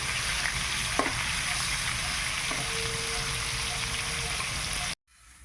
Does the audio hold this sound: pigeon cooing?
no